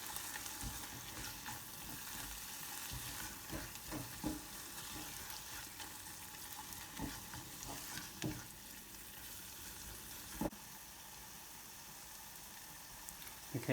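Curry spices with a pinch of chilli powder sizzle steadily in a pan over low-medium heat, a dense continuous frying hiss broken by occasional scrapes and clicks of stirring.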